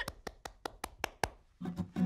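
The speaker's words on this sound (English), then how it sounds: "I'm clapping my hands." A single person claps their hands slowly and evenly, about seven sharp, close claps in a steady rhythm, followed by a brief burst of low background sound.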